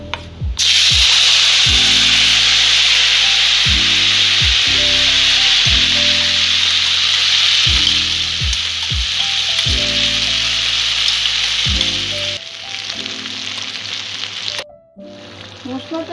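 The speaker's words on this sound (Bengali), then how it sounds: "মশলাটা কষা হচ্ছে" A spice paste of tomato, ginger, poppy seed and cashew fries in a pan for a vegetarian jackfruit curry, giving a loud, continuous close sizzle with occasional stirring scrapes.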